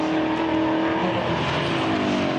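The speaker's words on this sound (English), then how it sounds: "Listening to the Ford Coyote V8 thundering up the hill." Ford Mustang GT4 race car with a Coyote V8 roars loudly and steadily up a hill during a GT4 circuit race at The Bend, a continuous close engine drone with no talk over it.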